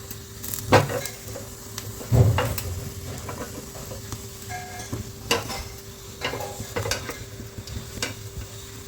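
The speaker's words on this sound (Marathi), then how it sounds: "इथे मी कांदा टोमॅटो हे भाजण्यासाठी टाकलेले आहे" Onion and tomato roast in a pan, a soft continuous sizzle broken by several sharp scrapes and clinks of a utensil against the pan, close by, no voices.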